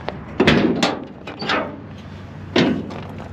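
The hood of a 1970 GMC 1500 pickup with a 350 engine is opened, giving several close metallic clunks and rattles, the latch and hinge thumps spaced over a few seconds with no talk.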